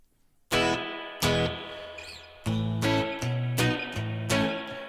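An electric guitar played through a BOSS ME-80 multi-effects pedal with spring reverb: a series of separate struck chords and notes, each ringing out and decaying with a lingering wash, close and clear with no talking.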